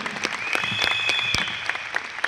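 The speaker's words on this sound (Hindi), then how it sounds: "एक बार जोरदार ताली मिस्टर दीपक सूद जी, कन्वरवीर जी और मिस्टर गौतम बाली जी के लिए" An audience applauding for company management at an event, a brisk patter of many separate claps with a steady tone ringing underneath.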